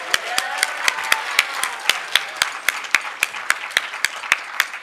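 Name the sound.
audience applause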